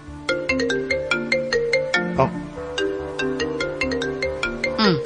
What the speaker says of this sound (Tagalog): Bagting mong cellphone.